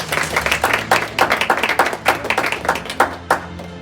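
A small group claps at a black belt graduation, steady rhythmic applause from a few nearby hands, continuous and fairly loud for several seconds.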